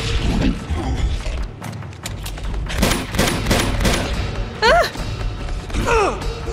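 Gunfire in Uncharted 2: Among Thieves, loud dense bursts of shots mixed with in-game effects and thuds, with brief vocal exclamations near the end.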